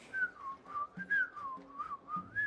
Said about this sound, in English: Goblin approaches, whistling a happy tune.